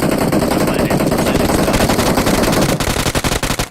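Rapid automatic gunfire in the mobile battle-royale game PUBG Mobile during an esports event match, a loud dense burst of repeated shots running continuously, with the fire thinning into separate cracks near the end.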